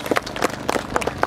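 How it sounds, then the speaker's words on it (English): Sparse, scattered clapping from a small crowd at a motor show awards ceremony in Dumfries: a handful of distinct, uneven hand claps lasting barely over a second. "A round of applause if you would."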